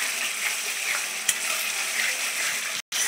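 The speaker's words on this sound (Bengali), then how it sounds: "মশলাটা ভালো করে কষাতে হবে।" Spice paste stir-frying in oil with a splash of water, a continuous close hiss and crackle with a faint stir, cutting out briefly near the end.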